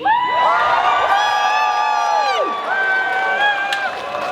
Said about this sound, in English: give me one more massive cheer of strength, love, and solidarity